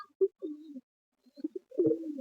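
A male pigeon coos in short, low, close phrases separated by a silent pause, with no talk over it.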